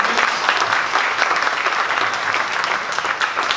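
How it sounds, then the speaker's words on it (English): A room full of people gives a sustained round of applause for Momentum Technologies at a community business gathering, dense and even clapping throughout. "we'll get one more round of applause for Momentum Technologies"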